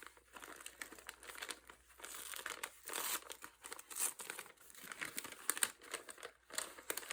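Crinkling and rustling paper fill the space as a vintage-style paper package with stickers is opened by hand, close up, in irregular crackling bursts with occasional tearing sounds.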